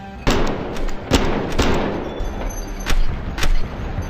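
Pistol gunfire in the VR shooter Hard Bullet: loud, close shots ring out at irregular intervals, about six in all, each with a short echoing tail.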